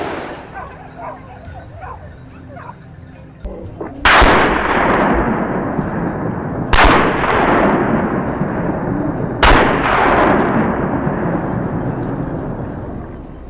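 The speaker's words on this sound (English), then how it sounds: "Without hesitation, a decisive gunshot rings out, and the beast collapses in an instant." Three loud hunting rifle shots at wild boar across open golden fields, each a sharp crack at roughly three-second intervals followed by a long rolling echo, over faint outdoor background.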